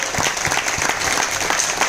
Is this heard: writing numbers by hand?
no